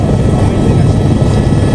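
A helicopter flying from Simikot toward Purang sets down at its landing point, its rotor and engine making a loud, close, unbroken drone.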